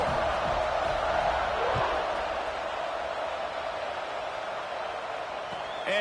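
In the College Football 26 video game, a stadium crowd keeps up a steady, dense roar throughout, with faint voices in the mix.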